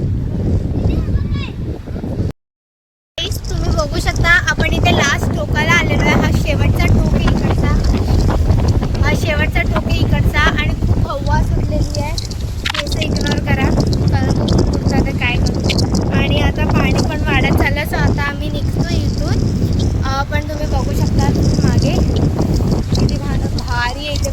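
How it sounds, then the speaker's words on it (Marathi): Strong gusty wind buffets an outdoor microphone with loud continuous low rumbling and roaring, broken by a brief dropout near the start, while a person talks through the noise. "खूप हवा सुटली आहे"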